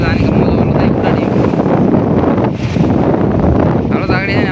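Strong wind buffets the microphone at sea aboard a small fishing boat, a loud, continuous roar with rushing water, steady throughout with a brief dip midway.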